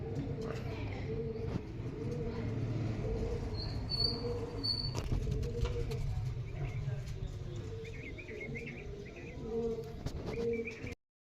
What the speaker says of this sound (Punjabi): ਆ ਗਏ ਆਪਣੇ ਆਹ ਕਬੂਤਰ